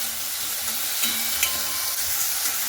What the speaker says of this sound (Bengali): এরপরে আলুটাকে লাল লাল করে ভেজে নিতে হবে।